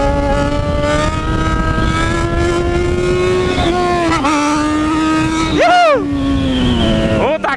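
A Yamaha XJ6 N motorcycle engine held steady on the throttle while riding, giving a loud, close, sustained tonal drone with brief dips and a sharp rise in revs near the end, under wind buffeting.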